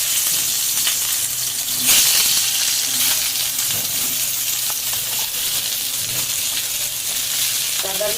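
Brinjal fries in fish oil in a pan, giving a loud, continuous high hissing sizzle with occasional crackles and a light clink or two.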